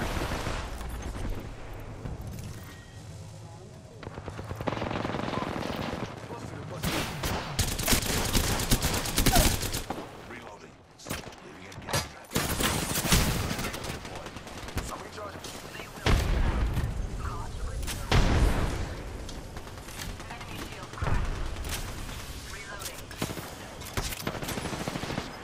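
Video game gunfire crackles through a mid-match firefight, with rapid bursts and volleys of shots coming near and loud in clusters, broken by short lulls while players talk over the action.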